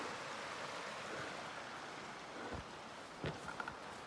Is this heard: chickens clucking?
no